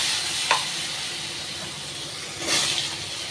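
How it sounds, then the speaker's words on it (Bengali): Potatoes hit hot mustard oil with cumin seeds in a pan, giving a steady close sizzle with two sharper hissing surges as they go in. "সর্ষের তেলের মধ্যে সাদা জিরা দিয়ে দিয়েছি এবং আলুগুলো দিয়ে দিচ্ছি"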